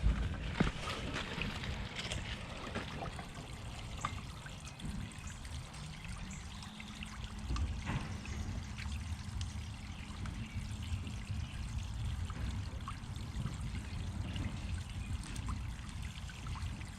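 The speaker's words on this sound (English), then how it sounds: "That's a lot of water." Water pours steadily from a gutter discharge outlet controlled by a bull valve, a continuous close rushing trickle with no speech.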